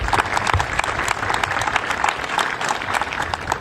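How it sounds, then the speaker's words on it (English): An audience at a Phoenix event applauds, a dense, steady clapping from a crowd that stays loud for several seconds. "Wow, that deserves some applause."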